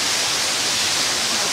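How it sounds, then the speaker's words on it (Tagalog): An underground waterfall inside Ryugashi-do cave, a dense, unbroken roar of falling water that fills the space at a constant, fairly loud level. "Diyan po nanggagaling ang kanyang tubig, guys. Ayan. Para siyang fall sa ilalim ng kuweba."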